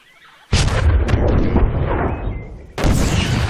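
Torpedoes launching and exploding in StarCraft 2, heard as a loud, booming wash of blasts that starts abruptly, holds for about two seconds, dips, then surges again with a second heavy burst.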